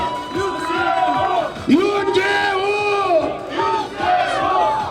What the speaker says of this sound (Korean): 큰 박수 부탁드립니다 여러분 박수